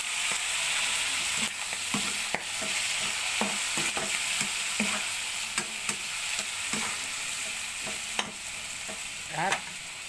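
Cabbage sautéing in a pan for lunch, a steady close sizzle with repeated clinks and scrapes of stirring scattered throughout.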